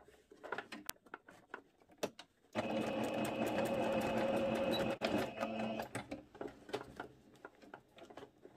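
Sewing machine stitching a two-piece elastic-waist skirt: a steady, close mechanical whir of about three seconds, set between scattered clicks and light handling noises in a quiet room.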